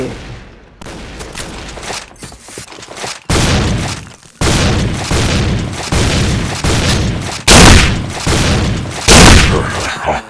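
The Death Scythe weapon in the shooter game Point Blank strikes in a series of loud, booming hits, with several heavy impacts spaced across the stretch and bursts of gunfire-like crackle between them.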